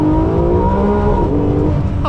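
A Ferrari 599 GTO engine roars loudly and close, holding a strong sustained tone that rises slightly in pitch, with a brief rasp near the end.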